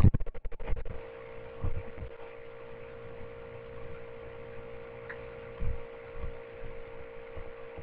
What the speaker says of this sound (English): you're gonna have to excuse if it sounds like a vacuum at all. It's kind of my laptop overheating